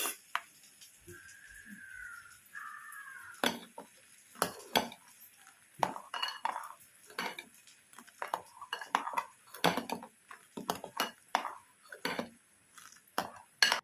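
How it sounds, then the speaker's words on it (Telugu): A spoon stirs curd and salt in a bowl for dahi vada, giving a close series of irregular clinks, scrapes and soft wet sloshes spread over about fourteen seconds with brief pauses. "ఇప్పుడు బాగా మిక్స్ చేసుకోవాలి"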